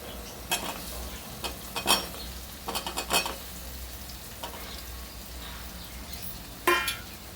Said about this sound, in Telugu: ఇప్పుడు కాలీఫ్లవర్ ముక్కలు వేసుకుందామండి